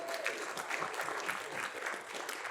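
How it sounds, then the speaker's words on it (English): An audience at a business summit in Australia applauds, many hands clapping in a continuous, moderately loud wash with slight swells, heard alone without talk. "Give yourselves a round of applause for that."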